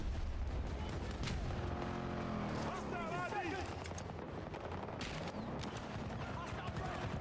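Gunfire and explosions in Battlefield 2042 gameplay, with scattered shots and rumbling blasts over a busy battlefield din, mostly faint and mixed under in-game voices.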